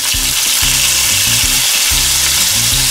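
Pork sizzles loudly in hot oil in a pan for a banh mi sandwich, a dense continuous hiss with low clattering pulses from stirring, close up and with no talking.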